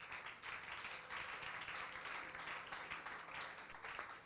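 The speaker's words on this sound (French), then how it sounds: "Est-ce qu'on peut acclamer le Seigneur?" A church congregation applauds in a steady, dense wash of clapping, moderately distant and continuous from start to finish, with faint voices mixed in.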